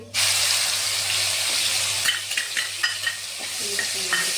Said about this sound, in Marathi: मिक्स करून घ्यायचं आहे आपल्याला. फ्राय करून घ्यायचं थोडंसं.